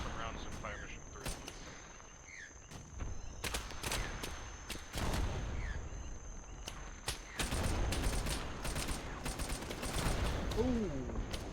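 Artillery rounds from a fire mission in the military game ARMA 3, a series of sharp distant blasts and crackling impacts, with people talking over the barrage.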